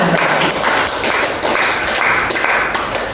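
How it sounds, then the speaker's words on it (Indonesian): Short burst of audience clapping for the attendees during a computational-thinking lesson, fairly close and loud, with uneven overlapping claps running for a few seconds and no speech. "Tepuk tangan buat hadirin"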